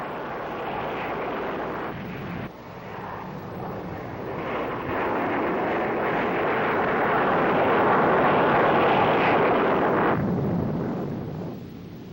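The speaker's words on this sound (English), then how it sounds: "Water doesn't daunt the Navy, however, and its Blue Angels jet demonstration team gave a great show" Blue Angels Navy jets roar through a flying demonstration over water, a broad sustained rushing thunder that swells louder midway and then fades, heard from a distance on an old newsreel.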